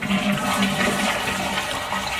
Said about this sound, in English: So make sure we close the water you over here, and then flush all the water out.